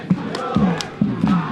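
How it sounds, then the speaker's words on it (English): A crowd of CBC supporters at a school soccer match against Petra, shouting and chanting in loud rhythmic bursts of voices that rise and fall with repeated cries. "We can see the CBC crowd going wild over that piece of activity there"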